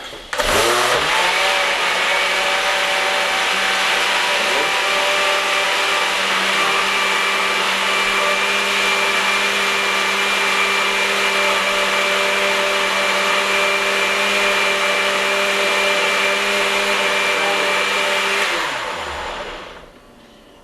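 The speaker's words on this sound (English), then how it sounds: "put the little lid on and blend it" A countertop blender mixes pickle brine with celery seed, spinning up to a loud, steady whirring roar that holds for about eighteen seconds before winding down to a stop, with no talking.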